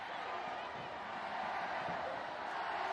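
A crowd roaring and chanting at a Wales v England women's rugby match, a steady, distant-sounding wash of voices filling the stadium, with commentary spoken over it.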